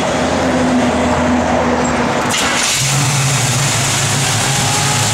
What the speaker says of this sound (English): I want to hear the motor and the road.